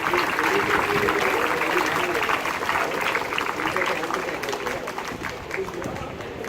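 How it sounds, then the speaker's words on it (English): Students and parents in an audience at a school investiture ceremony give a big round of applause, dense steady clapping that fills the hall and fades slightly toward the end. "give all of the participants a big round of applause"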